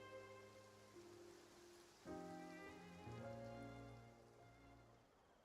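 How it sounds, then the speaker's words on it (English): Rain in the video game Genshin Impact patters softly and steadily under sustained, droning game music and tones. The rain is faint and continuous, with no speech. "It rained for longer than I suspected."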